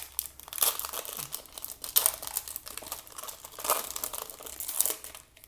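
Foil wrapper of a 2017–2018 Topps WWE trading card pack crinkling and tearing open, a steady close-up run of crackling rips and crumples lasting several seconds with no talk.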